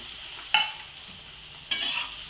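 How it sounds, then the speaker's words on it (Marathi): Diced potato and green chili fry in oil for sabudana khichdi, a soft steady sizzle broken by two distinct spatula scrapes across the pan, close up and without any talking. "बटाटा आपण 2 ते 3 मिनिट चांगला तेलामध्ये परतून घ्यायचा आहे।"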